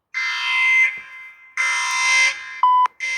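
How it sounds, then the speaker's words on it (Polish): Electronic alarm blaring in loud repeated bursts, about three blasts with short gaps and a brief higher tone between them, alone with no talk. "Jest alarm."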